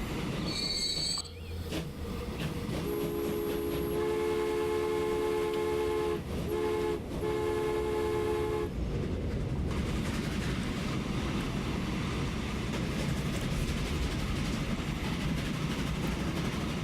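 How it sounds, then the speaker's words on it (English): A train rolling along a rail line in Transport Fever, with a steady rumble of wheels, high squealing tones from the rails and a brief horn toot, no speech. "Alright, so our second train's on our dump line now"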